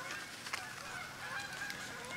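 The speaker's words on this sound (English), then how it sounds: "Mostly all those geese are gonna fly right over me." A flock of geese honks as it flies overhead in the woods, repeated nasal calls at moderate distance over a quiet background.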